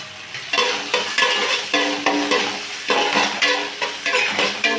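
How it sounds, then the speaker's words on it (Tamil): Onions stirred and frying in a pan for a chicken and mutton fat roast curry, with steady sizzling broken by regular scraping strokes of a spoon, close and fairly loud, no talking. "அப்புறம் வந்து வெங்காயத்தை கொட்டிக்கலாம். நல்லா கிண்டிக்கலாம்."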